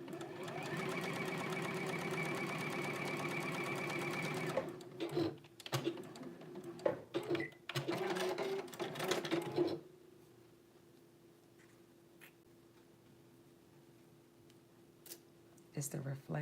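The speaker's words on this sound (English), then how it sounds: "Sewing the back to the back." A sewing machine stitches backpack back pieces together in a loud, steady run for about four and a half seconds, then gives way to short bursts of handling and rustling before falling to near quiet with faint ticks.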